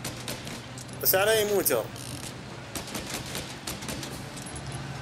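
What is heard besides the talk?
gunfire while driving in the video game Mafia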